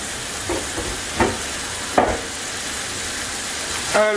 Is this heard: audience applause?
no